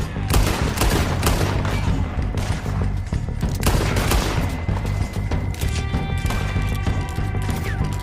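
Gunfire from the video game Red Dead Redemption 2 crackles in rapid, overlapping bursts, with loud close shots over a busy scene and a faint clatter of hooves.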